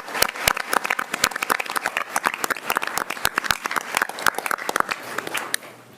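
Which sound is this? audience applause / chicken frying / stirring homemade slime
audience applause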